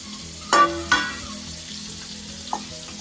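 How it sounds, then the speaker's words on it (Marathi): Water poured into a hot pan on a wood-fired stove hits with two quick, sharp sizzling bursts, then a soft steady frying hiss with one small pop near the end. "पाणी घ्यायचं आणि ओतावलं पटकन"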